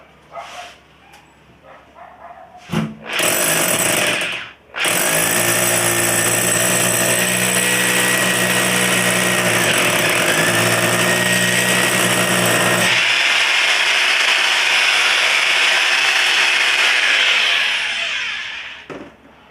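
A DEVON SDS rotary hammer drill in hammer drill mode bursts on briefly, then roars continuously and loud for about fourteen seconds, rising in pitch as it breaks through and winding down at the end, heard close with no talk.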